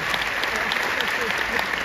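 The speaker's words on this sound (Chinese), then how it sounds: "来给你们自己本身一个掌声。" An audience at a seminar claps together, a dense, steady burst of applause that stays loud for about two seconds, with no talking over it.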